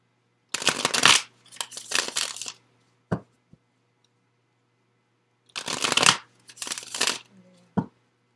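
Tarot cards are shuffled close by in quiet bursts of riffling and crisp card slaps, followed by single snaps. A low steady hum runs underneath, and there is no speech.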